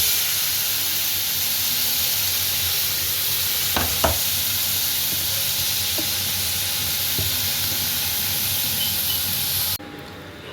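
Grated carrot thoran sautés over a very low gas flame with a steady, even sizzle. A few soft spatula taps and scrapes come through the hiss before it drops away near the end.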